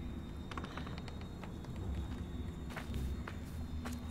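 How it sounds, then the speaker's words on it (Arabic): A man's footsteps behind the player in a video game set in a forest, soft repeated steps crunching at a steady pace over a low ambient background, fairly quiet and close. "كان في صوت خطوات رجل ورانا عامة"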